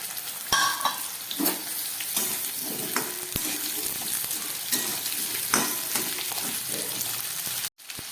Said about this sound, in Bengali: এবার দিয়ে দিচ্ছি মিষ্টি কুমড়ো